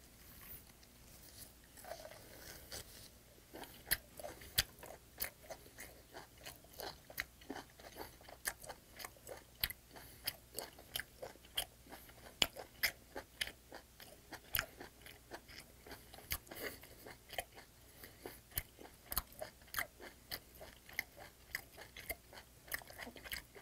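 Sea hare dipped in garlic soy sauce and salt being chewed up close, a steady run of soft wet crunching and biting sounds repeating for over twenty seconds, quiet and intimate with no talking.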